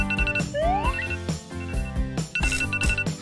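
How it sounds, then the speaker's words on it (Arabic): A phone alarm rings loudly and steadily, a repeating electronic melody of bright tones with a rising sweep, heard alone with no talking. "حسناً، سأطفئ المنبه."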